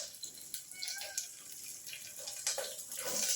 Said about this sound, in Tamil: இதில் பைப்பு தண்ணி பிடிச்சி கழுவணும்.